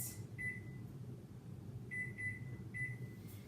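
Kitchen timer beeping while salmon fillets cook in a pan: short electronic beeps, one early and then a quick pair and another near the end, faint over low steady room hum.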